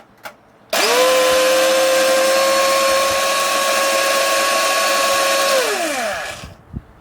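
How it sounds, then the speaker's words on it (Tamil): A mixer grinder blends carrots with milk, starting abruptly into a loud, steady high-pitched whir that holds for about five seconds, then winds down as it is switched off, with a couple of small knocks after. "இது கூட நான் கொஞ்சமாக சேர்த்து கிரைண்ட் பண்ணுறேன்."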